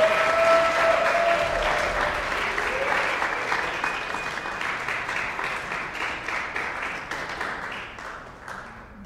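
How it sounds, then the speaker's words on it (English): Audience applause fills a hall at an honors recital, a dense, sustained wash of many hands clapping that starts loud and slowly thins and fades. A few high tones sound briefly over the crowd early on. "Let's give them a huge round of applause as they come back out to receive their certificate."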